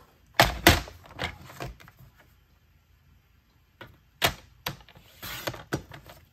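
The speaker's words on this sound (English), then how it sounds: "I'm gonna cut 1 1/2 inches off one of the ends" Paper cutter or blade slicing a 1 1/2 inch strip off the end of a scored card-stock card, heard as a few sharp, close slicing strokes and thumps in two bursts separated by a quiet pause.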